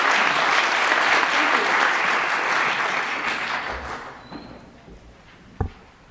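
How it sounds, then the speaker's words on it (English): An audience at a morning HR legal-topics club meeting applauds warmly, a dense steady clapping that fades out over several seconds, followed by a quiet room and a single sharp knock. "Let's give her a round of applause for coming back."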